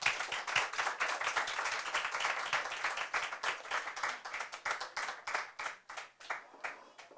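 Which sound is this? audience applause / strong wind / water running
audience applause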